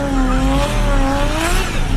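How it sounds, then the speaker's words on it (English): A car drives in circles and drifts, its tires squealing in long, wavering tones over a steady engine roar, loud and close throughout. "the driver of the car started driving in circles and drifting"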